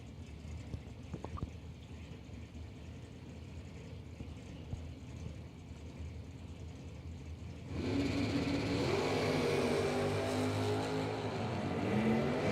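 Drag racing cars, one a Camaro, launch down the strip: after a quiet, distant stretch, engine noise jumps up abruptly and holds as a rising, moderately loud revving roar heard from some distance.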